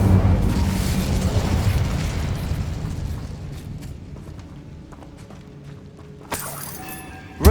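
Incendio fire spell cast in Hogwarts Legacy: a loud, broad whooshing burst of flame that fades gradually over several seconds, followed by a few faint crackles and a sharp magical chime near the end.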